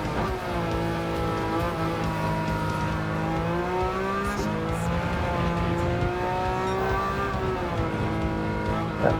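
Race car engine in Gran Turismo 7, a loud continuous high-revving drone holding steady with small pitch swells as the car accelerates, upshifts and sustains speed, close and alone throughout.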